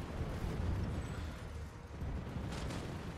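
A muffled explosion booms in the online shooter Planetside 2, a low rumbling burst that fades into continuing battle noise, heard without speech.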